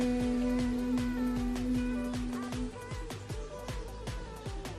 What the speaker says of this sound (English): inhale and exhale with a humming sound like this.